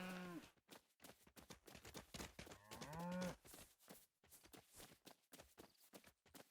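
In LEGO Fortnite, a glitched cow gives two loud, close, drawn-out moos, one at the start and one midway, amid busy clattering footsteps and game sounds.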